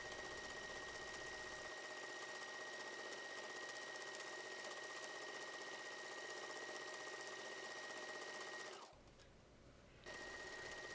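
A sewing machine runs steadily in free-motion quilting, stitching loop-de-loop flower petals out from a center point. The hum is continuous and close, with a brief pause near the end before it resumes.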